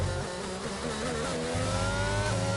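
McLaren Formula 1 car in the F1 22 racing game at the Spain circuit, a steady high-pitched engine whine that holds on throughout under faint background noise, with no voices.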